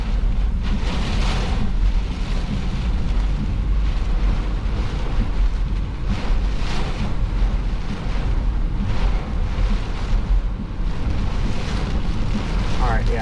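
Gusty wind roars outdoors among trees during a tornado-warned storm in northwest Indiana, heavy continuous buffeting with swells, loud and close with microphone rumble, with a voice at times underneath.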